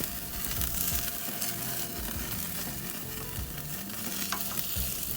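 A T-bone steak basted with butter sizzles on a Weber kettle grill, giving a continuous crackling fry with small bursts of popping and spatter, close and steady throughout.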